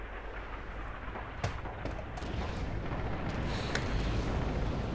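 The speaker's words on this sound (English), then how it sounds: "The artillery is actually, coming in here" Rumbling artillery barrage in the video game Red Orchestra 2, deep booming impacts and a few sharper cracks over a heavy low roar that grows louder toward the end.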